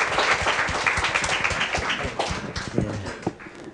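A congregation at a Taipei prayer meeting breaks into dense, steady applause, a thick wash of clapping with a few sharper taps, heard close and fairly loud.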